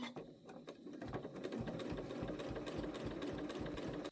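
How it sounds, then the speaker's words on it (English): A sewing machine with a blind hem foot runs steadily, stitching binding down onto a quilt. It makes a close, rapid, even mechanical whir and tapping that holds for about four seconds, then stops abruptly, with no talk. "This is where you will continue stitching the next side of the binding down to your quilt."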